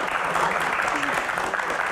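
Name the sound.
audience applause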